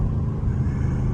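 A Dodge Charger Scat Pack roars at full throttle, a deep, loud, continuous engine rumble close by with no voices.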